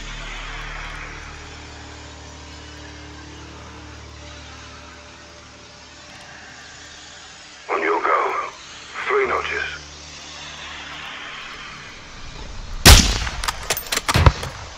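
Rifle fire in the Modern Warfare 2 campaign rings out as a loud, sharp crack followed by a brief burst of rapid echoing reports near the end, after radio-style voices and low rumbling ambience.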